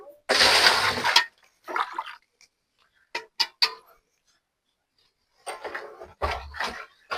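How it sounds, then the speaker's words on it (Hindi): Water poured out in a strong opening splash, followed by several shorter splashy bursts separated by quiet gaps, all close by. "थोड़ा पानी डाल दे।"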